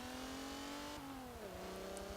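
A 1958 Alfa Romeo Giulietta Sprint Veloce, a lightweight front-engine rear-wheel-drive car, revs steadily on a race circuit in Forza Motorsport 7, its engine note rising, then dropping at a gear change and climbing again, loud and close with no talk.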